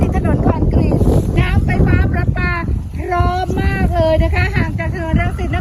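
A steady breeze by a canal in Thanyaburi, Pathum Thani, blows as a low, buffeting wind rumble against the microphone throughout, while someone talks over it.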